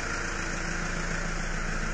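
A car engine idles steadily and close by, giving a continuous, even rumble with a slight vibration that stays the same throughout. No voices are heard.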